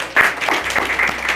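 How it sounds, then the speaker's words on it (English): Brief burst of audience applause at a school's official Hospitality Suite launch, starting sharply and then settling into a steady, moderately loud patter of claps over about a second. "So a round of applause for that there."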